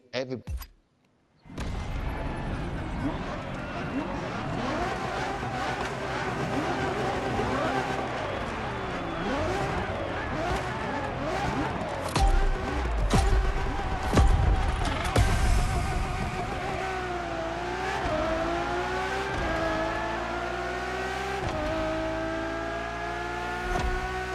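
A Ferrari Enzo supercar in The Crew Motorfest racing game, its engine droning loudly and steadily with revs rising and falling through gear changes, a voice talking over it throughout.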